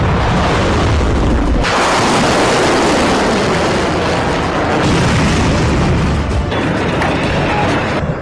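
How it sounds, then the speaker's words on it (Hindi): Loud, sustained roar of an Iranian missile strike exploding over Israel in news footage, a dense rumbling blast that fills the whole stretch with brief dips, no voices. "पहली बार डांसिंग मिसाइल से प्रहार। इजराइल के आसमान में नाचती हुई तबाही।"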